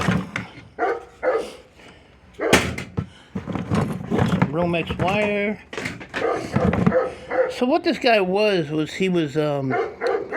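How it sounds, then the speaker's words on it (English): A dog barks and yips several times close by, then lets out drawn-out whining cries, while someone talks almost throughout while sorting scrap metal. "Sorry about the dog."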